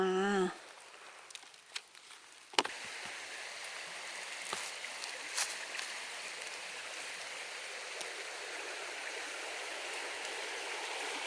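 A forest stream flows close by in Swedish woodland where wild mushrooms are being gathered, giving a steady, broad rushing wash with a few brief knocks and handling sounds near the start.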